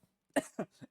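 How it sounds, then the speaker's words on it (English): A short burst of three harsh coughs in quick succession, each a little weaker than the last, close up. "good timing for a coughing fit"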